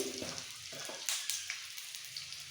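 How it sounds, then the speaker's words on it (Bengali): Ripe jujube pieces for a chutney hiss and crackle in hot oil while being briefly stirred, a close, steady frying sizzle with a few light spoon knocks and no speech. "বেশি ভাজবো না দেওয়ার সাথে সাথেই একটু তেলের মধ্যে নাড়াচাড়া করে দিয়ে দেবো নুন আর হলুদ"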